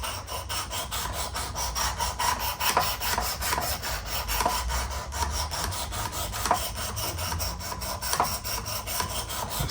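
Quick, rhythmic gritty strokes of a knife blade across the stone of a Work Sharp Precision Adjust Elite sharpener carry on evenly at a moderate, close level. Each pass is faintly distinct, and there is no speech.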